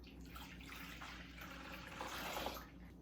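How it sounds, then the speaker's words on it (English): Warm water poured from a measuring cup into a mixing bowl for bagel dough, a continuous splashing trickle that swells louder near the end, close and alone. "Okay, warm water in the bowl."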